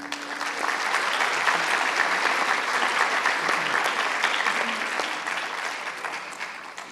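Audience at an environmental education panel discussion gives a speaker a sustained, steady round of welcoming applause lasting several seconds, easing off slightly at the end.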